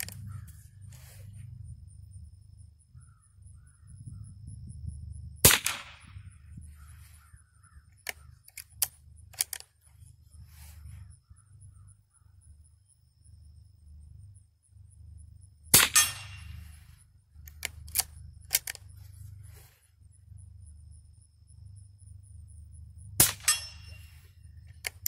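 Scattered .22 rifle shots at target practice, a handful of sharp, isolated cracks spaced several seconds apart over a low steady hum, fairly close and otherwise quiet.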